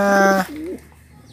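Caged pigeons give a steady harmonic coo lasting about half a second, then a softer gliding call, both close and clear with no talk.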